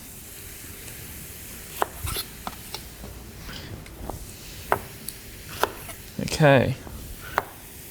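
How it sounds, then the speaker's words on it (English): A knife cuts thin slices of ginger on a chopping board in a home kitchen, a handful of sharp, separate taps scattered across the clip with a louder scraping burst near the end, under a brief spoken word. "Some nice thin slices, and then we'll just sort of julienne it, then we'll just cut it again"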